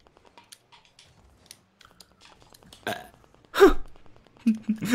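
A loud, deep burp from a person during a Rocket League gaming session, rising out of quiet background noise and followed by a couple of shorter guttural bursts near the end.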